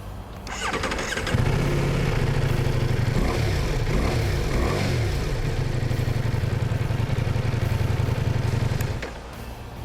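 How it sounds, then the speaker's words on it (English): A Ducati Multistrada V4S four-cylinder engine with a twin-pulse firing order starts up close by and runs with a loud, throbbing, uneven beat, rising briefly in revs mid-way before settling and shutting off. "it has something called a twin pulse firing sequence that gives the character of the engine a very L-twin-like character in terms of sound"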